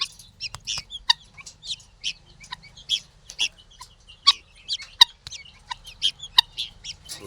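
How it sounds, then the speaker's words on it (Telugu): Chicks and hens cluck and peep close by in a steady scatter of short, sharp calls, some louder clucks standing out, with no talking. "హ్యాపీ, చాలా హ్యాపీగా ఉన్నాయి. యాక్టివ్ కూడా ఉన్నాయి కోడి పిల్లలు."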